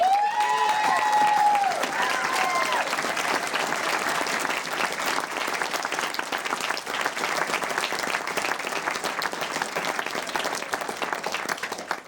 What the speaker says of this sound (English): One more big round of applause for all of our amazing.